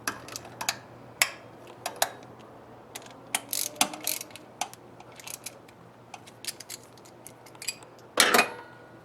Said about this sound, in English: Snug them all up with the longer ratchet.